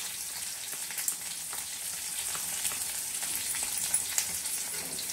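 Asafoetida dropped into hot oil with red chillies and curry leaves for tempering gooseberry rice, a bright crackling sizzle that runs steadily with small pops, close and fairly loud.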